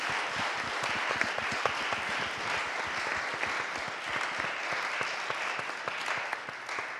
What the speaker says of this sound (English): a round of applause to thank them